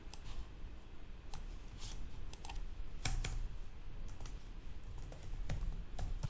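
Quiet, close typing on a computer keyboard, irregular bursts of key clicks with a few louder taps.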